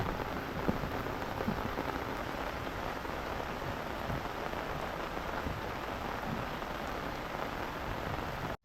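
Steady rain pours down in a rural area, a dense, even hiss of drops on surfaces that holds at the same loud level throughout with no voices, cutting off abruptly at the very end.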